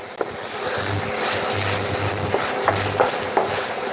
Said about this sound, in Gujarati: એકાદ બે મિનિટ માટે ઘીમાં સાંતળી લઈશું